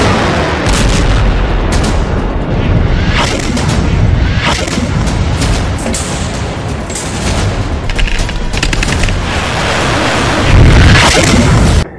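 Israeli strikes on Gaza produce loud, repeated booming blasts and rapid bursts of gunfire, a chaotic, dense barrage heard close, with a heavy roar near the end.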